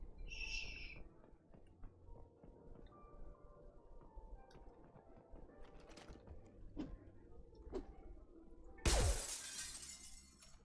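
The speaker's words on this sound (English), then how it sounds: "All the glass breaking." Glass shatters in Mass Effect 2 with a sudden, loud, bright crash near the end, after a stretch of quieter game ambience with scattered clicks and thumps.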